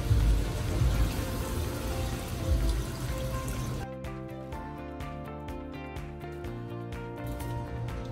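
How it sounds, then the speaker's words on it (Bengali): Water is poured into a pot of simmering beef curry, a steady close splashing rush for a few seconds that gives way to quieter kitchen sounds. "আমি এখন পানি দিয়ে দিব আমার পরিমাণ মতো।"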